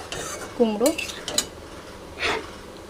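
Pumpkin tipped into a pan of already-sautéed potatoes and stirred for a vegetarian pumpkin-potato curry; brief clinks and scrapes of a utensil against the pan, close and fairly quiet, with a faint sizzle underneath.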